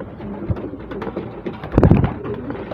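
Racing pigeons returning to their loft after a 110 km release, with soft cooing, fluttering and brief wing bursts close by, peaking in a louder flurry of flapping midway.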